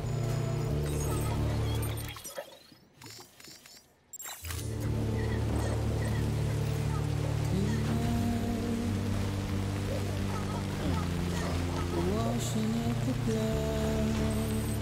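Steady rain falling in the video game Death Stranding, a dense continuous hiss with a brief muffled gap early on, alongside low humming tones and faint game sounds.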